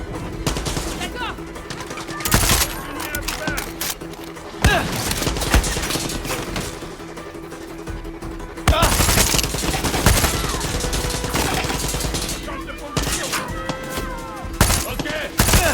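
Gunfire fills a Far Cry 6 battle, with loud bursts of automatic fire and scattered single shots over steady game noise, and voices talk throughout.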